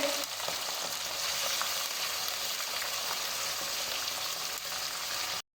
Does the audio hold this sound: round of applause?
no